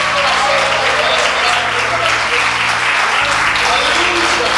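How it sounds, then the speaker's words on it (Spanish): A church congregation claps for the Lord during a sermon, a thick continuous wash of hand claps with a low droning hum and voices mixed in beneath. "Dele palmas al Señor con todo su corazón"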